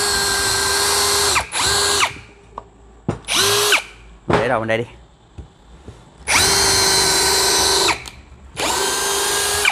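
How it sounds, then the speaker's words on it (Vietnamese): A DEKTON DK 2140MKT cordless drill bores into wood in several loud, near bursts of steady high motor whine, separated by short gaps with brief clicks and a quick spin-down, and a voice speaks briefly between runs. "Mình thử coi, đây là mình khoan gỗ nha."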